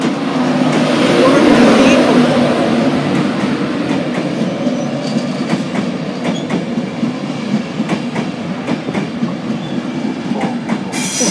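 Class 91 locomotive 91114, in special livery, rolls into Doncaster station: a loud, close rumble of wheels and carriages with rhythmic clicking over rail joints, fading slightly as it slows.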